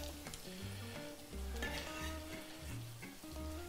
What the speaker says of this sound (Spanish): Vamos a poner la cebolla,